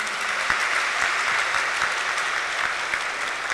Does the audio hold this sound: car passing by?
no